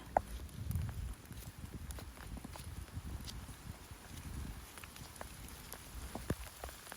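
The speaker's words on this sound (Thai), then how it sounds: "ฝนกระห้ำหัวค่ะ" Heavy rain falls steadily at a rural spot after flooding, where mushrooms are being gathered, a dense, continuous patter on surfaces with occasional louder drops, moderately close and fairly quiet overall.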